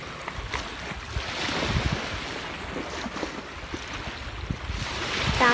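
Sea waves surge and wash continuously onto a Goa beach, a broad steady roar of surf with wind buffeting the microphone, building louder toward the end.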